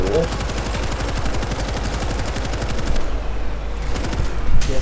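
Sustained automatic gunfire in the World War Z zombie video game, a rapid rattling stream of shots that pauses briefly near the end before resuming, loud and close with a voice talking over it.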